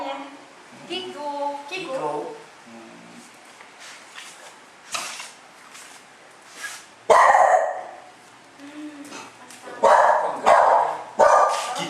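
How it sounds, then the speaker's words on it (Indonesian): A dog named Kiko gives a few loud barks and yips close by. People talk around the barking. "Ini anjingnya"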